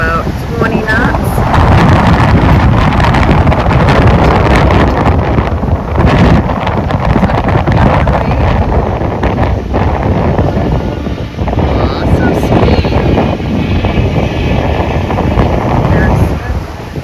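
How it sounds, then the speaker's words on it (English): Roughly 20-knot wind buffets a DJI mic on a boat on the Black Warrior River. The roar is loud, rumbling and continuous, with water and engine noise beneath and someone talking over it. "See how well this DJI mic works out here in the wind? Blowing about 20 knots."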